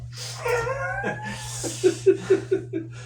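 A dog whines and yips in a series of short, rising cries, first a drawn-out whimper then several brief yelps in a row, close by and fairly loud indoors.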